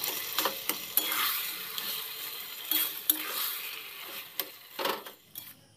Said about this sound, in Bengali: এখন কচুর শাকটা দিয়ে মশলার সাথে খুব ভালো করে নাড়াচাড়া করে মিশিয়ে নিচ্ছি